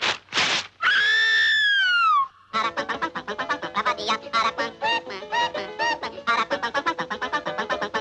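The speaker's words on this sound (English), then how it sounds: "he's called the Aracuan because of the peculiar song he sings" A cartoon Aracuan bird sings its peculiar song, opening with two harsh squawks and a long wavering whistle-like cry, then breaking into a fast, loud run of chattering, yodeling syllables.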